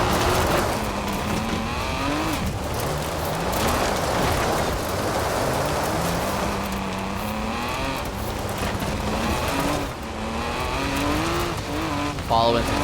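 A car driving over gravel and dirt trail in the racing game Forza Horizon 4, engine revving up and down through switchbacks with occasional tire squeal, continuous and loud.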